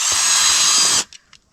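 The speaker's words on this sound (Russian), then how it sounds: "Мешаю шуруповертом, только сделала новый маникюр." A cordless drill whirs steadily while mixing water, running loud and continuous for about a second before cutting off, followed by a couple of faint knocks.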